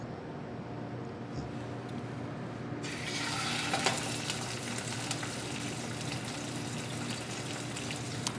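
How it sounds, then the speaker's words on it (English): Food searing in hot fat in a preheated pan: a quieter hiss gives way to a sudden, strong, continuous sizzle as the food goes in, staying loud and close to the end. "So that's gonna go in and sear for a moment."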